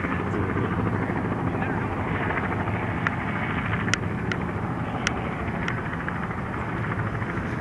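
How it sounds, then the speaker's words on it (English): A helicopter at an air show hums steadily in the background as a continuous low engine drone with faint rhythmic rotor chop, while people talk over it outdoors. "You got the helicopter in the background, too."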